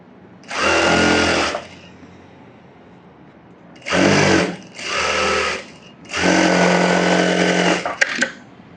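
A sewing machine stitching a blouse edge in short separate bursts, four loud close runs of whirring stitches with brief pauses between, the last ending in a few clicks.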